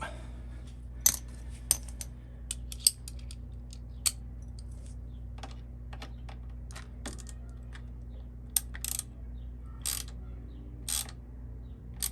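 Ratchet tightening the actuator mount on a Predator 9500W generator during a remote start kit install, heard as scattered short sharp clicks and ticks over a steady low hum, close and fairly quiet, with no talking.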